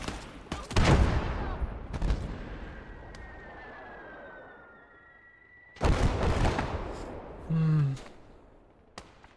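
Machine gun fire and explosions in a Battle of Stalingrad video game, loud bursts of rapid shots near the start and again later, with a whining tone and a low rumble between them.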